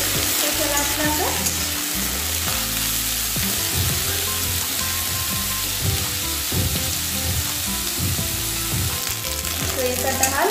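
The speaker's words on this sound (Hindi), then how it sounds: "हमें अच्छे तरह से फ्राई करना है, इसी तरह चला चला कर।" Pieces of jackfruit sizzle steadily as they fry in a pan, with repeated scraping and stirring strokes throughout, loud and close with no talk.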